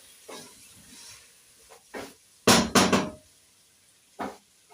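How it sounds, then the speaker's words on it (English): A spoon scraping and knocking in a cooking pot of pilau with potatoes, in several short clanking strokes with a tight cluster in the middle, close and fairly loud against a faint hiss. "You have to keep on stirring."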